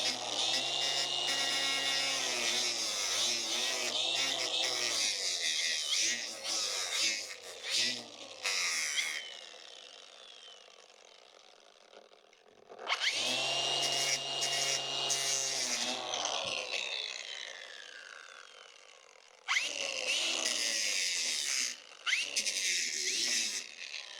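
A power tool grinds a taper onto a metal pin from the hydroboost brake conversion on a 1962 Chevrolet C10, with loud whining bursts broken by pauses and a voice talking in the quieter gaps.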